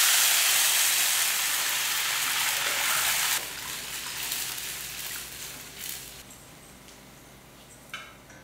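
Hot tempering poured into a pot of rasam, a loud close hiss that drops off sharply, then settles into softer frothing and bubbling with a couple of small clinks near the end.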